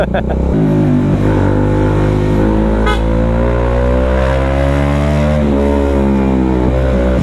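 A Bajaj Dominar 400 motorcycle engine revs loud and close on a muddy ride, a steady throaty drone that swells and dips in pitch as the throttle is worked, with no pauses.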